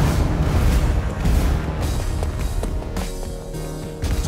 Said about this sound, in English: We have gunpowder! TNT!